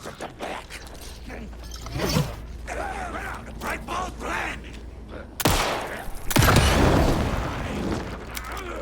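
A propane tank blows up in Alan Wake 2 with two sharp, loud bursts a second apart. The second bursts into a roaring, crackling blast that lingers. Earlier there are scattered creaks, clanks and rapid gunfire-like pops.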